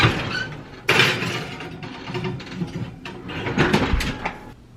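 Pizza going into a home oven: the oven door opens with a clunk, metal racks slide and rattle, and the door clatters shut, all close and fairly loud with no talking.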